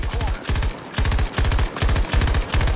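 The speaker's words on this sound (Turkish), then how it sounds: "Boşa mermi atıyorum." Rapid automatic rifle fire in Battlefield 2042, loud close bursts of several shots each, repeated with short gaps.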